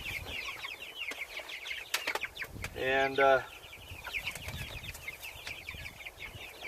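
Chickens on a farm cluck and chirp steadily through the clip, with a brief burst of louder squawking or flapping near the middle while someone speaks nearby.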